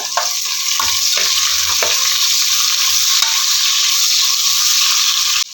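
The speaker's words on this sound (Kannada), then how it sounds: "ಈರುಳ್ಳಿ ಹಾಕ್ಕೊಂಡು ಚೆಂದ ಬ್ರೌನ್ ಕಲರ್ ಬರುವ ಹಾಗೆ ರೋಸ್ಟ್ ಮಾಡ್ಕೊಳ್ಳೋಣ" Onions fry in ghee with garam masala, roasting toward brown for kuska pulao, in a loud, continuous close sizzle broken by occasional stirring scrapes.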